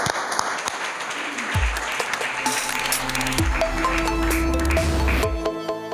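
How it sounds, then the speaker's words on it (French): A crowd at an entrepreneurship awards ceremony applauds in a sustained, loud burst, with music and electronic tones entering under the clapping and a short ping. "Merci beaucoup Julien, je vous propose un tonnerre d'applaudissements."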